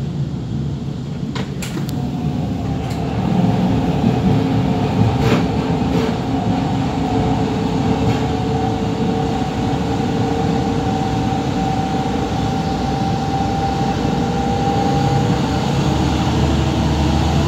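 A 2004 Stadler GTW 2/6 diesel multiple unit train on the NJ Transit RiverLINE rumbles steadily along the tracks with a constant low drone and faint rattling, a few sharp clicks early on, no voices.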